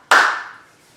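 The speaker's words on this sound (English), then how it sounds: "Clap." One sharp hand clap in a qigong lesson, crisp and close, with a short ringing decay and quiet before and after.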